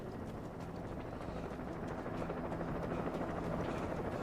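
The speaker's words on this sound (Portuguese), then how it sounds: "Vai derrubar helicóptero também? Cadê o helicóptero?" Helicopter in the video game Alan Wake, a steady loud rotor drone with constant chopping hum filling the whole stretch, no speech over it.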